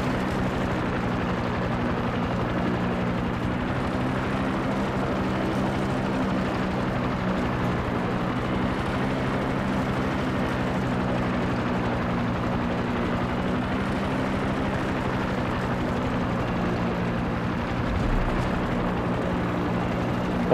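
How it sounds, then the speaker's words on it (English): A plane's engine in the Far Cry 6 video game gives a steady, loud, unbroken drone with a low hum, holding level throughout with no talking. "I'm gonna park a plane."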